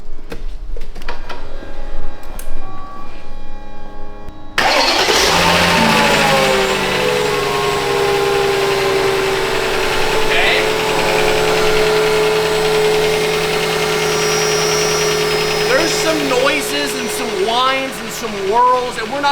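A broken Mercedes V8 cranks with a few rough turns, then catches and settles into a loud, steady idle with a slight knock, close up, while someone talks briefly over it.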